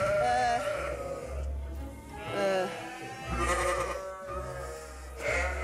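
A flock of ewes on a farm bleating repeatedly, several overlapping calls close by, loud and wavering, with quieter gaps between outbursts.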